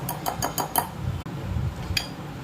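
A spoon clinks repeatedly against a bowl while melted butter is mixed into butter biscuit dough: a quick run of five bright taps, a pause with soft scraping, then one more clink.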